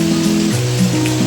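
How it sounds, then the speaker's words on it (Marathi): Heavy monsoon rain pours down in a steady, dense hiss, with a low droning hum running underneath throughout. "खूप सुंदर असा पाऊस आहे आणि या पावसामध्ये"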